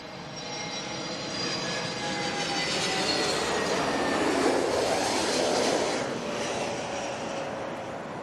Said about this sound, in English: it's a British Airways 777 300 coming in from San Francisco